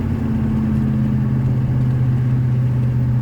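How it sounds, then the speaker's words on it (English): A CrestLiner 1650 boat's small Vortec V8, around 283 cubic inches with roller cam and dual exhaust, idles with a steady, loud low rumble and constant hum throughout. "I got the dual exhaust on here."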